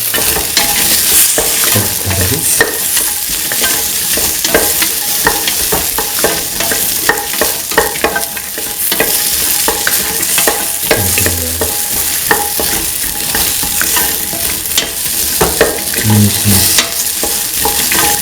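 Okra pieces with salt frying in a pan for an okra chickpea coconut milk rice dish, a steady close sizzle broken by repeated scraping stirs and clinks of the spoon throughout.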